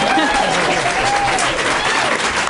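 Loud sustained applause from an audience after a school debate in a gym, dense clapping that fills the room throughout with a few voices mixed in.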